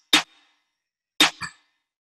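Two crisp snare-and-clap hits, sharp and bright, about a second apart; the second is followed by a quick flam-like echo. Close and dry.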